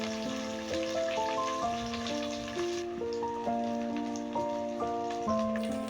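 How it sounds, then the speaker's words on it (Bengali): Chopped onion and green chilli frying in hot oil give a steady, crackling sizzle that runs throughout, partly masked by a louder melodic music track playing over it. "এবার তেলের মধ্যে দিয়ে দিলাম পেঁয়াজ কুচানো আর কিছুটা কাঁচা লঙ্কা কুচানো এর মধ্যে দিয়ে দেবো।"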